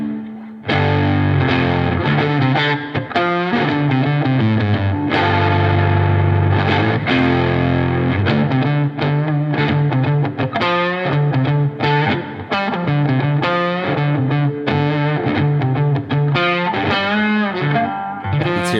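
Electric guitar through a drive pedal set to its no clipping mode, a dense, loud stream of chords and riffs with gritty overdrive and a touch of modulation, continuous and upfront with no talking.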